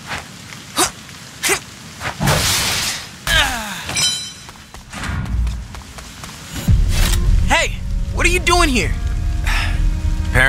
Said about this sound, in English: I didn't think it would rain today.